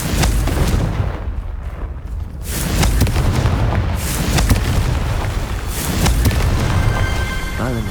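A Confringo spell in the video game Hogwarts Legacy bursts in loud booming explosions, several heavy blasts over rumbling combat noise with fiery crackles, close and dense throughout.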